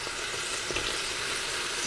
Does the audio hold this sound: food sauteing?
yes